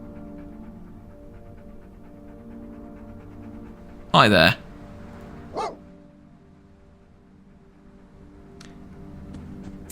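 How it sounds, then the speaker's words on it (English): In the video game Fallout London, a dog gives one loud burst of barking, then a smaller yip a moment later. Steady ambient game tones sit underneath and a brief voice speaks. "you are the most adorable ugly dog I have ever seen"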